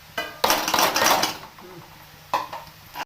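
A plate is set over a cooking pan of pigeon pea greens curry, giving a few loud metallic clanks and a clattering scrape of dishes, then a pause and one more clink, close by with no talk.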